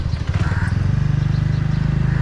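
A scooter engine heard while riding, a steady, close low-pitched putter with even pulsing that holds throughout, with no talk over it.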